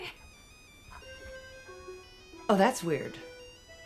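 A cell phone rings with a short electronic melody of rising tones, and a voice then speaks over a louder burst near the end, with the ringtone fairly faint in a quiet room.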